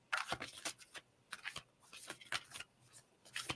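A deck of cards is shuffled close by in quiet, irregular riffling bursts of crisp flutter and snaps.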